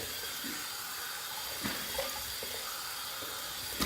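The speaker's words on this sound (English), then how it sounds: "I'm going to wet my face and we're going to build a lather" Water running steadily from a tap to wet a face before shaving, a continuous close hiss with a few faint splashes and knocks, no speech.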